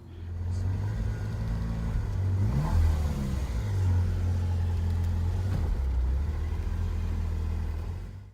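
A Ferrari 348 engine runs steadily with a deep, even mid-pitched drone, swelling slightly around a brief rev midway and holding a consistent idle-like hum until it fades at the end.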